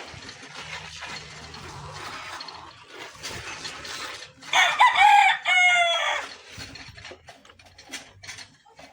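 A rooster crows loudly in a chicken coop, one strong crow near the middle over quieter clucking and scattered coop noises.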